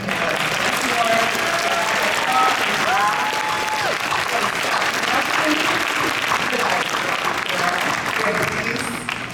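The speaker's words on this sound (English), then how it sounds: "I want everybody to give a round of applause for our" Audience applause and cheering at a WonderCon 2022 panel for Disney Plus's The Quest, a loud sustained clapping crowd filling the hall, with voices speaking and calling out over it.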